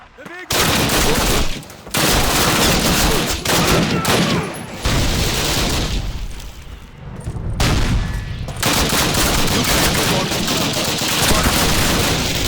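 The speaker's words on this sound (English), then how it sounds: "Martin, Elder, give me covering fire!" Heavy gunfire fills a Call of Duty (2003) battle scene, with near-continuous volleys of rifle and machine-gun shots and booms, loud and dense, briefly dipping between bursts. Shouted voices come through the din.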